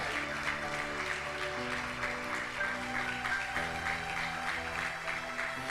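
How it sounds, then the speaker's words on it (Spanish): A church congregation bursts into sustained applause, a dense wash of many hands clapping steadily throughout, fairly loud, with faint voices and music mixed underneath. "Dale un aplauso fuerte a esta palabra"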